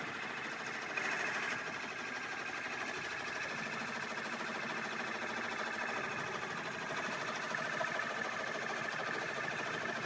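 A home embroidery machine stitches a chocolate-strawberry design onto a towel, its steady mechanical whir running close and unbroken throughout, with no talk over it.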